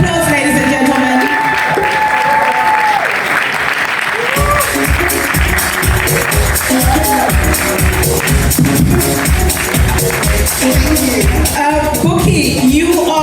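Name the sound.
audience applause for an award winner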